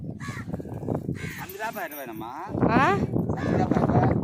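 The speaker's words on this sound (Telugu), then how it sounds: "కాకులు కాకులు వస్తున్నాయి రా" Crows caw loudly several times close by, mixed with people talking.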